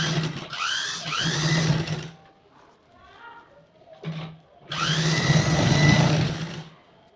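A domestic sewing machine stitches fabric for a fishcut mermaid gown in two loud, steady runs near the mic, with a short pause of quieter handling sounds and a brief start-stop burst between them.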